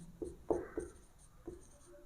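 Pen strokes on paper while a math problem is worked out by hand, four short scratchy bursts of writing close to the microphone in a quiet room.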